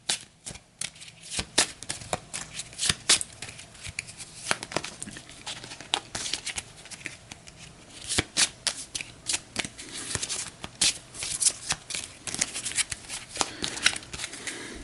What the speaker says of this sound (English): So we'll shuffle everything, and then we will resolve that second card.